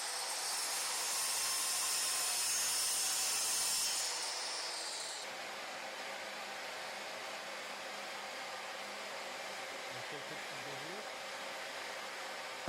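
A Bosch GCM 8 SJL radial miter saw cuts 12 mm plywood in one loud, close, whining pass lasting about four seconds, then the blade spins down and quieter room noise remains.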